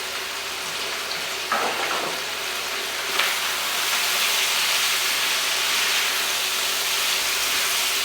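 Green peppers cooking gently in a pan of sweet potato curry give off a steady, fairly loud sizzling hiss that runs the whole time, with a brief rise near the start and no talking.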